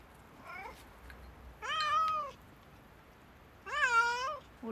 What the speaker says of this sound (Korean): 그런데 길냥이가 함께 일합니다